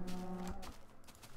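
Cows moo in the video game TerraFirmaCraft, a low drawn-out call with a steady tone for about half a second, then a scuffling thud and softer trailing sounds, loud and close with no talk.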